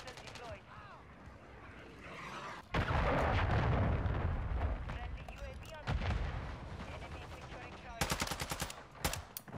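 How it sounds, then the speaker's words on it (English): Cruise missile strikes in a military shooter video game burst into heavy explosions and rumbling blasts, with gunfire crackling around them. Rapid shots ring out near the end, and voices talk throughout. "Friendly cruise missile deployed."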